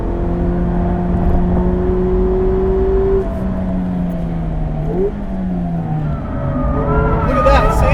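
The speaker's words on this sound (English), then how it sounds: "you can oversteer it under braking and then just go flat to the floor" A 2017 Mazda MX-5 Miata RF on a race track at Thermal holds a loud, sustained engine drone with shifting pitch as it oversteers under braking, with tire noise and someone talking over it.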